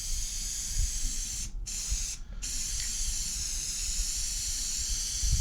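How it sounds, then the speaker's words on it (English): A Krylon clear gloss aerosol can hisses steadily in a heavy spray for several seconds onto canvas, with two short breaks, close and fairly loud. "It's a pretty heavy spray."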